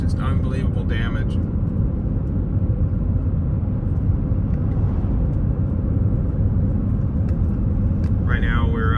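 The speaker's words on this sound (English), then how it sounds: "just driving down the highway on our way to Leeville, Louisiana" A car cruises down a highway through storm-damaged coastal Louisiana after Hurricane Ida, heading toward Leeville, its loud, steady road rumble and engine drone filling the cabin; brief voices surface at the start and end.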